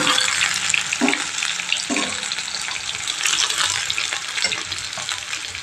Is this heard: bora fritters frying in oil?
yes